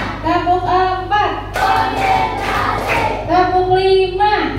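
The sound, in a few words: children clapping hands in a counted rhythm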